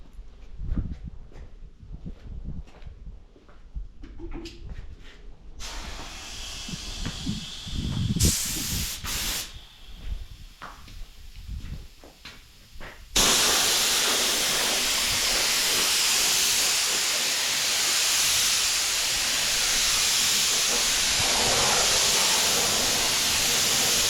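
A can of spray-grade upholstery glue, used on a 1934 coupe, sprays in short bursts at first, then one long steady hiss of aerosol that runs to the end, loud and close.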